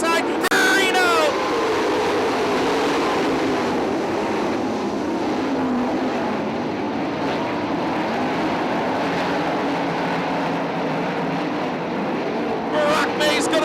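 410 sprint cars race at Attica Raceway Park in Ohio, with a continuous loud engine roar that swells at the start and end as the pack passes, under a race announcer's commentary.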